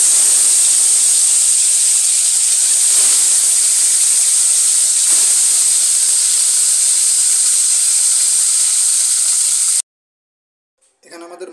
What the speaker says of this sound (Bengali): মাছটা এখানে দিয়ে দেওয়া হলো।